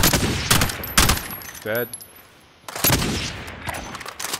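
Rapid bursts of video game gunfire crackle in a few loud clusters with gaps between them, and a player's voice speaks briefly in the middle.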